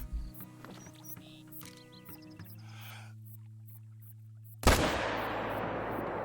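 An M1 rifle fires at a whitetail buck about 350 away in the Call of the Wild hunting game: one sharp, loud shot with a ringing decay, following a few seconds of quiet, humming ambience.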